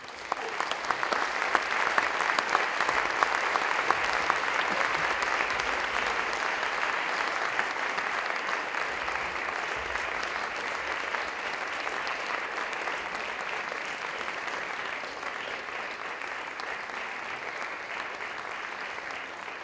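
Sustained audience applause after President Kersti Kaljulaid's speech opening the Tallinn Music Week conference: a broad, even roar of clapping from a large hall, somewhat distant, lasting nearly twenty seconds and easing slightly toward the end.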